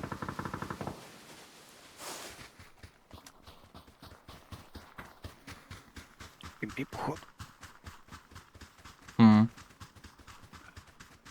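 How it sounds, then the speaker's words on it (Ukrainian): Gunfire in the battle-royale shooter PUBG: a long run of sharp, evenly spaced shots, mostly distant and moderate, with one louder close burst near the end, while players' voices come through faintly. "Але стріляли вроді десь ближче"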